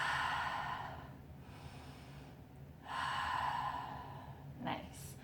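Slow, deep breaths during a floor yoga stretch, long airy exhales and inhales rising and falling close to the mic, with a short sharp sniff near the end.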